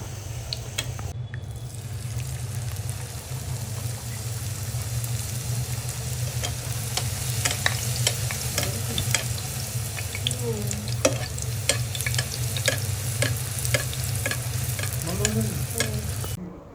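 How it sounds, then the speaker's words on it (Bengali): Luchi puffs up in hot oil with a loud, steady crackling sizzle and sharp spattering pops, while a low continuous hum runs underneath throughout. "তেল দিয়ে দিলে লুচিটা খুব সুন্দরভাবে ফুলতে থাকে"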